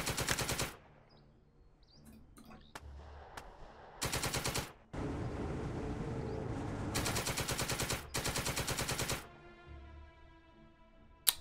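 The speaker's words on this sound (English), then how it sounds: "Get all the machine guns on target." Bursts of machine-gun fire in the wargame Second Front, including Matilda tanks in play: several loud, sharp rattling volleys of rapid shots separated by quieter stretches of battle ambience, with no talk.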